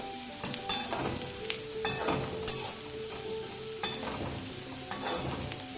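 Bitter gourd frying in a pan, a soft, steady sizzle broken by intermittent scraping and clinking of a spatula stirring the pieces, close but fairly quiet, with no voices.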